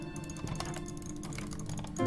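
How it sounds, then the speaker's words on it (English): Rapid clicking from a computer mouse and keys during a video game session, steady and close, with dense overlapping clicks and no talk. "I'm clicking everything I possibly can."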